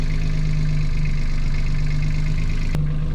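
A Yanmar 3YM30 marine diesel idles on a sailboat at anchor after being cleared of hydrolock, a steady low throbbing drone with a faint mechanical tick, close and continuous, briefly interrupted by a sharp click near the end.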